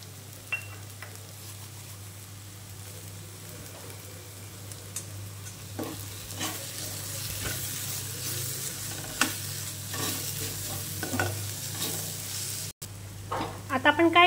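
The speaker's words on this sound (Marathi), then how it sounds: "5 मिनिटं या मसाल्याला जरा कलसू देऊया। आपला मसाला हा कलसत आहे" Masala for chana masala sautéing in a pan, a soft continuous sizzle with intermittent stirring and scraping of a spoon, fairly faint, with a voice speaking briefly toward the end.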